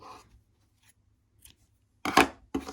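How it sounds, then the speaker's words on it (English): Scissors cutting yarn while finishing crocheted fingerless mittens: after near silence, two close, crisp snips in quick succession. "And now we're going to cut the yarn"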